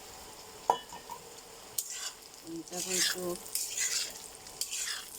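Kabuli chickpeas and fried potatoes are stirred in a pan with scraping spoon strokes over a soft sizzle, the clinks and stirring bursts coming intermittently while a voice briefly speaks.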